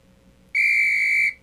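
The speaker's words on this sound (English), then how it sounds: "You got to love the whistle." A sharp referee's whistle blows once at halftime of a game, a single sustained shrill tone of about three-quarters of a second, loud and steady, rising abruptly out of quiet crowd hum and cutting off cleanly.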